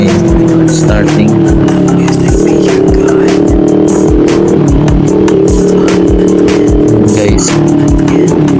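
A motorcycle that had sat long in a garage with a dead battery runs at idle, a loud close steady engine drone with rhythmic low pulses and clatter, voices faintly underneath.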